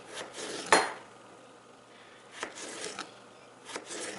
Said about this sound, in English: And then you're gonna cut them into small little strips